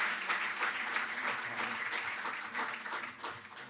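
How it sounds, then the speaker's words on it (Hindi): Applause from an audience at a Delhi government sports award ceremony as a badminton player is honoured, steady clapping throughout without a break. "जोरदार तालियों से इनके प्रयासों के लिए।"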